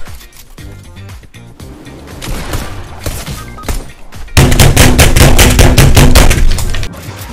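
Rapid video-game gunfire from Fortnite, a steady stream of shots that turns into a dense, loud automatic burst partway through and then eases off near the end.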